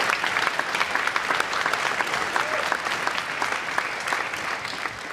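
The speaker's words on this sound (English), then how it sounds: "I think we should give Julian and his team a round of applause for all the work they've done." An audience claps in a dense, sustained round of applause at a science lecture, steady and full throughout, with no clear speech over it.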